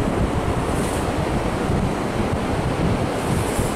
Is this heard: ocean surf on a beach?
yes